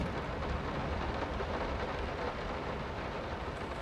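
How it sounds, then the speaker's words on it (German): Steady, loud rain pours without a break in the horror game Layers of Fear (2023), with a low thunder rumble rolling beneath the downpour and no voices over it. "Der Regen wäre mir zu laut."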